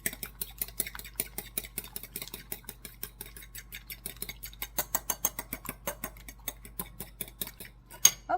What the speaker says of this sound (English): I'm going to take a fork, and I'm going to slightly scramble these eggs